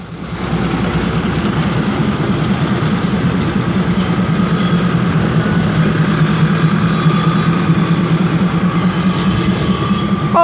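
Train 4387 pulling slowly out of Ban Laem station in Thailand: a loud, steady rumble of rolling cars and wheels, close and continuous, with faint squeals and no speech.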